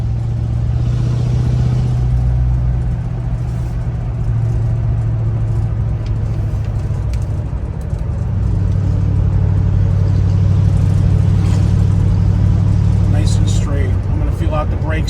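A 1967 Ford Mustang's engine rumbles steadily at around 50 mph, with the pitch dropping and rising again as the transmission shifts, heard from inside the car.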